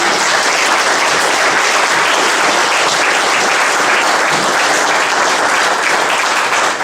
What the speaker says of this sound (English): let's have a round of applause for our candidates.